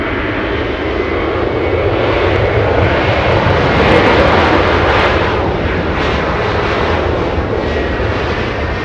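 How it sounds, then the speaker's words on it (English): Loud jet engines of a Delta Air Lines Boeing 737 departing Los Angeles International Airport for Denver roar up close, swelling slightly toward the middle and staying powerful to the end, with no talking. "Delta Airlines, a 737 getting a move on, flying to Denver, Colorado."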